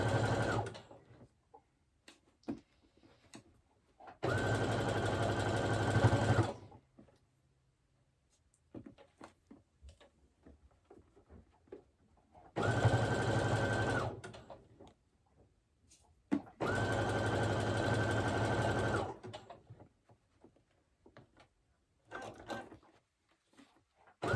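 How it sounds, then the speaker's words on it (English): A sewing machine stitches trousers in three separate bursts of a few seconds each, loud and close, with quiet pauses between them filled by small handling clicks and rustles. "I'm just going to sew it on the top of the machine"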